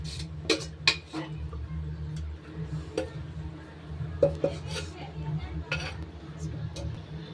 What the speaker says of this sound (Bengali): সব দিয়ে খুব ভালোভাবে এটাকে মিশিয়ে দেব।